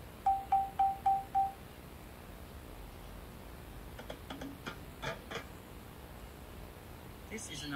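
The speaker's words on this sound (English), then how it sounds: "If I use a hard rubber mallet," A wooden xylophone struck with a hard rubber mallet plays five quick, evenly spaced notes at one pitch. A few faint clicks and knocks follow over steady background hiss.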